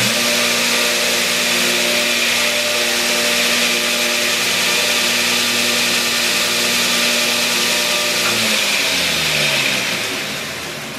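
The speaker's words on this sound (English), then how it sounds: "This is a smooth working grinder." A homemade belt grinder runs steadily on a shop bench, giving a loud, even motor hum and belt whir for about eight seconds before it winds down and the pitch drops as it coasts.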